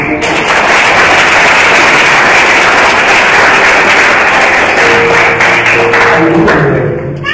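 A congregation at a Protestant church service claps loudly and steadily for several seconds, the dense applause filling the room.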